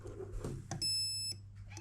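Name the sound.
Perun airsoft mosfet beeping when a 7.4 volt battery is connected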